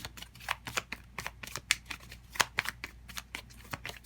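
Tarot cards being shuffled and drawn by hand, a quick run of crisp riffling flicks and soft slaps, close and fairly quiet, with no voice over them.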